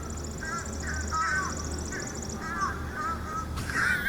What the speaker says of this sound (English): The birds are loud.